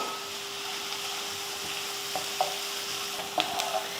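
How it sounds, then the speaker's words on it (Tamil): Chopped garlic, curry leaves and green chillies sauté in hot oil with a steady, even sizzle. Occasional soft scrapes of stirring are heard, and nobody speaks. "ஒரு ரெண்டு மூணு பூண்டு பல் அதையும் குட்டியாக கட் பண்ணியிருக்கேன் கொஞ்சம் கருவேப்பிலை ஒரு ரெண்டு பச்சை மிளகா இதை வதக்கிடலாம்"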